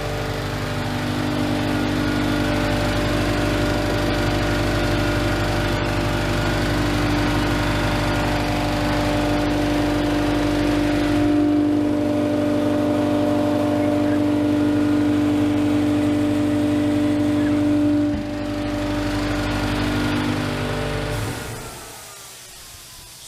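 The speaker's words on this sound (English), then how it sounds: "we'll let the air compressor finish filling the tank and let it cut off automatically" Quincy air compressor behind a closed sound shield, running steadily with a loud, constant motor drone and hum as it fills the tank, then winding down and cutting off near the end.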